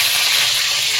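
Potatoes hit hot oil in a pan in a rural Sundarban kitchen, giving a loud, steady sizzle with a dense, hissing crackle for the whole second and no voices.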